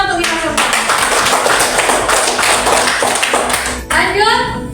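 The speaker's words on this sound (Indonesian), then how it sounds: "Sekali tepuk tangan untuk kita semua." A group of people claps together in a classroom, loud and close, with short speaking voices at the start and end.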